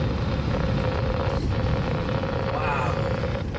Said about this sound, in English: Look at the gusts.